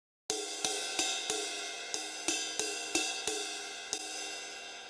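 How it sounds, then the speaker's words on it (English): A ride cymbal on an electronic drum kit, heard alone: about nine evenly spaced, bright metallic strikes, each ringing on and overlapping the next, close and fairly loud after a brief silence. "just getting on the electronic drum kit and playing it separately"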